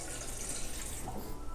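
A little more water is poured into a cooking pot of simple broth for bacalhau rice, making a soft, continuous splashing trickle that stays quiet and steady throughout, with no talking.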